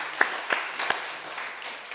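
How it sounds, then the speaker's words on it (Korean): A church congregation gives scattered applause, a handful of faint, separate claps spread over two seconds in a roomy hall. "하나님께 영광의 박수 돌려드리겠습니다."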